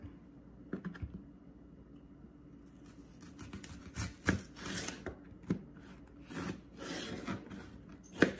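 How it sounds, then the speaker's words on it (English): A knife dices an onion on a cutting board, quiet at first, then a run of quick, close, uneven tapping chops through the second half. "get all the rest of this onion cut, diced up"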